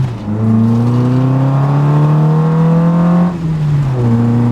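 An old rattle-trap car with an LS swap drives on the open road, its loud engine droning steadily and rising slightly in pitch, then briefly dropping as the driver lifts off before picking up again.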